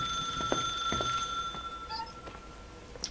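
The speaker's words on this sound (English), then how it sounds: "Oh, sounds like somebody's calling." In the video game The Suicide of Rachel Foster, a telephone rings with repeated ringing bursts, moderately loud and heard through a quiet room.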